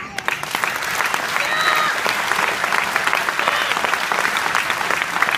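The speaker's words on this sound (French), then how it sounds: "Je pense qu'on peut applaudir." Audience applause at a celebration honoring a bronze Olympic medalist from London, steady dense clapping filling the whole stretch, loud and sustained with a faint voice briefly over it.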